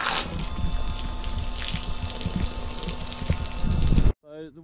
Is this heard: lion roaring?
no